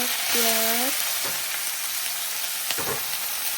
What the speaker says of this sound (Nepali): प्याजहरूलाई पनि मजाले फ्राई गर्छु